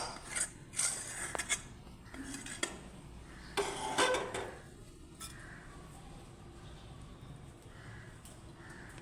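A palm fruit mixture for homemade palm ice cream is poured into a bowl and stirred, giving scattered clinks and scrapes of utensils against dishes, loudest early and then fading to a quiet background.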